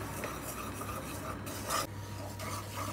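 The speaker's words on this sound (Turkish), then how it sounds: "Yaklaşık olarak 2 yemek kaşığı kadar bir yağla unumuzu kavuruyoruz" Flour toasts in about two tablespoons of oil for an oven-roasted tomato soup, heard as a quiet, continuous scraping stir with faint sizzling.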